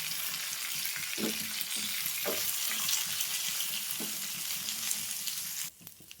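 Fresh coconut pieces and green chillies fry in oil while being stirred, a dense, crackling sizzle with occasional soft scrapes, close and steady before cutting off abruptly near the end.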